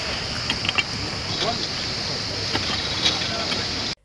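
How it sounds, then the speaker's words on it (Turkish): A solid waste collection boat working along the Bodrum shoreline at Adaboğazı during a coastal cleanup gives a steady, continuous wash of engine and water noise with a few brief knocks, alone at moderate loudness. "Temizlik sırasında ekibe katı atık toplama teknesi Venüs eşlik etti."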